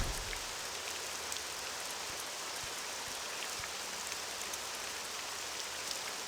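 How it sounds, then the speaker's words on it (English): Heavy rain pours steadily in the video game Morrowind, a dense, unbroken hiss of falling water with no breaks or voices. "Still raining hard, it seems."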